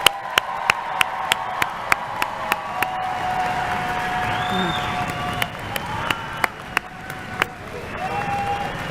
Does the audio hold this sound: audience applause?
yes